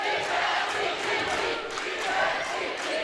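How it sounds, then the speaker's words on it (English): A crowd at a high school basketball game roars steadily through the moment, a full, continuous wash of cheering and shouting from the stands. "And this crowd is in full throat tonight as Heller working against Cale Jacobson."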